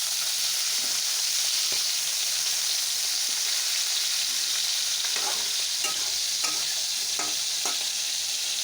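Fish cooks in a pan with a steady, close sizzle of hot oil, joined by occasional soft scrapes and taps of stirring.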